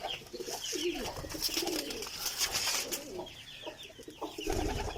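Pigeons, a long-flying breed of kabootar, coo repeatedly at close range in a busy outdoor loft, with several overlapping calls, wingbeat flutters and background bustle throughout.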